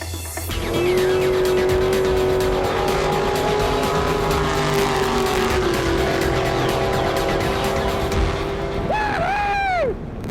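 A powerful car engine roars at sustained high revs on a drag strip run, then briefly shifts pitch near the end, loud and fairly close, with no talking.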